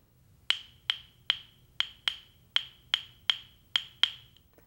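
Wooden percussion instrument, held in a loose cradled grip, struck about ten times in a steady rhythm. Each hit is sharp, dry and clicky with a quick decay, fairly close, over a faint low hum.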